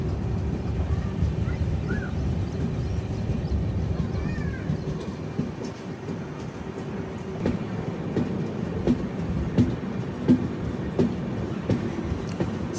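A train shunting slowly through the goods yard at Igatpuri, a steady low rumble with intermittent wheel clicks and clanks building toward the end, continuous and fairly close.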